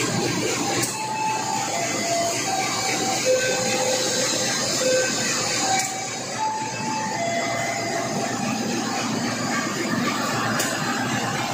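Steady rumbling and hissing of the locomotive of the Dhoho passenger train in Indonesia, with a droning engine tone and occasional clanks, continuous and fairly loud with no talking.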